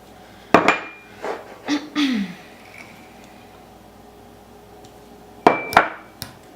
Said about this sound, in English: And you stir it.